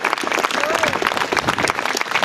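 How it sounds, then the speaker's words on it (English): Crowd applause at an outdoor peace vigil after the Boston Marathon bombings, dense and steady clapping throughout with voices mixed in. "let's give these folks a round of applause"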